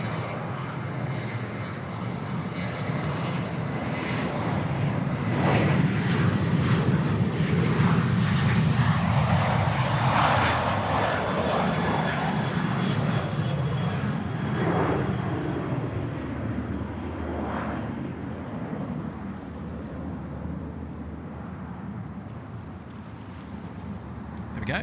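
A Velocity jet bound for Brisbane departs Sydney Airport's runway 34 right, its engine roar swelling to a broad peak midway and then slowly fading into the distance.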